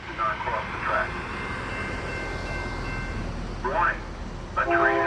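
A 4-car SEPTA Silverliner 4 commuter train rumbles past at a crossing on Lower State Road, with steady rail noise, brief horn-like tones and crossing warning sounds rising near the end.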